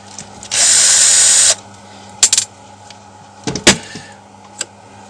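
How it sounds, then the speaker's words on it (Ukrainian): A power screwdriver runs in a steady whir for about a second while screws are backed out of the oil pump on a Kraissmann KS'58 CC chainsaw, followed by sharp clicks and clatters of small parts being handled. "знімаємо сам масляний насос, відкручуємо два гвинтики"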